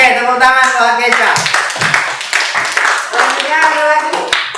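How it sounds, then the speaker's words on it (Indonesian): A school class claps together for a student, a brief scattered burst of hands mixed with a teacher's voice and children's chatter in a classroom. "oke, tepuk tangan buat Keisha"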